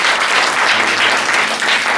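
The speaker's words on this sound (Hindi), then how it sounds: "ताली बजाएंगे परमेश्वर की" A church congregation applauds during a sermon, a loud, dense burst of clapping from many hands that holds steady throughout without pause.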